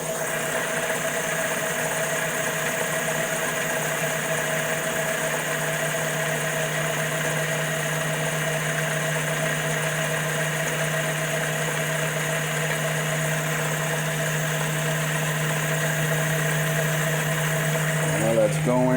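A Logan 12 inch lathe runs with a steady mechanical hum and a strong low motor drone, unchanging for the whole stretch, with a faint clunk near the end.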